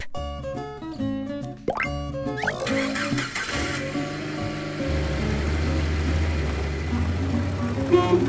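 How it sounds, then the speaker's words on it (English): A jeep engine cranks and catches, then settles into a steady mid-pitched running rumble, with a few plopping clicks at the start. "Jeep."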